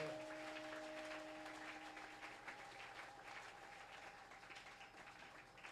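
A church congregation applauds and cheers for the Lord, a dense, steady wall of clapping that holds evenly throughout, with a faint sustained tone fading early on.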